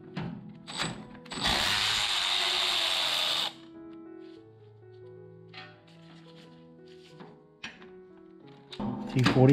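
A ratchet working a T45 Torx bolt out of the brake rotor of a BMW R1200 GSA motorcycle, with a long loud burst of clicking followed by softer ratchet clicks, knocks and metallic tool handling nearby.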